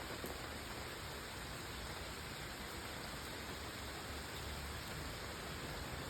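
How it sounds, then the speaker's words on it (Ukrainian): Quiet summer rain falls in a small town, a soft, even hiss of drops that stays steady and faint throughout with no voices. "Я люблю дощ."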